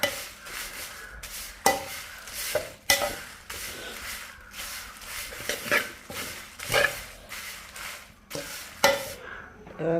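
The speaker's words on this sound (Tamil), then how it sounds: "கொஞ்சமாக அதை சுற்றி விடுவோம்." Food frying in oil in a pan is stirred, giving repeated loud scraping strokes of a utensil against the pan over a constant crackling sizzle, close by and without speech.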